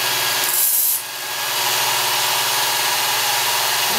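A Work Sharp Ken Onion Edition powered belt knife sharpener runs steadily close by, with a continuous grinding rasp as a blade is drawn across it. The rasp dips briefly near the start, then holds even and loud.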